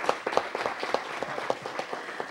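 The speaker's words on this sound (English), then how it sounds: "go ahead and clap" Scattered applause at a city council meeting, a thin audience clapping in a loose, uneven rhythm, with individual claps easy to pick out and moderately close.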